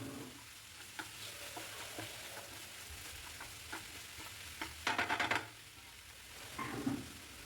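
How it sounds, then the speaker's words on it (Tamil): Chopped greens being stirred into sautéed onions in a hot pan, with a steady sizzle underneath, soft scraping strokes throughout and a brief louder clatter of stirring midway. "கீரை சேர்த்துட்டு நல்லா மிக்ஸ் பண்ணி விட்டுருங்க"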